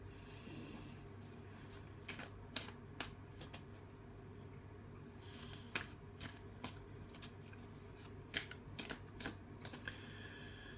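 Playing cards being handled and shuffled up close, a run of quick riffling flutters and snaps in irregular bursts, with no talking.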